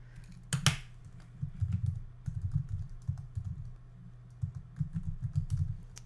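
Quick, light keystrokes tapped on a computer keyboard in irregular bursts with short gaps, close and fairly quiet.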